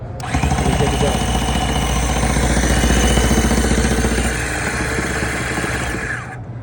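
A rug binding machine stitches binding tape onto a rug's edge at a trade show, giving a loud, steady mechanical whir with a rapid stitching rhythm that runs continuously for several seconds before easing slightly near the end.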